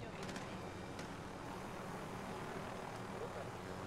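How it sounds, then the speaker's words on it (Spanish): A helicopter in the Call of Duty Warzone video game drones as a steady, broad rotor and engine rumble throughout, with people talking over it. "Un helicóptero"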